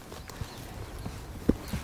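A horse's hooves clip-clop on a ride out under saddle, a few soft, irregular walking strikes at moderate distance, with one sharper knock near the end.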